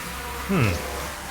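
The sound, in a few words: swarm of bees buzzing in the video game Sunless Skies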